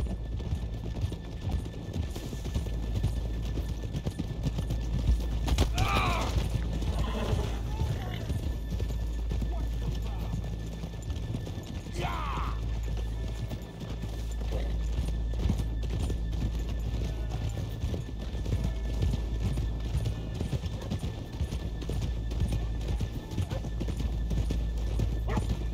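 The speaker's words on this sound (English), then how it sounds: "let's leave the horses here off the main drag" Horses in the Red Dead Redemption 2 video game clop steadily on a town street and whinny a couple of times, close and clear, while characters talk over the hooves.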